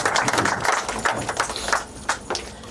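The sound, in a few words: audience applause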